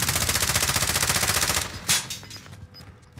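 A sustained automatic weapon burst in a video game firefight hammers rapidly and loudly for over a second and a half, then cuts off, leaving a few sharp scattered shots and echoes.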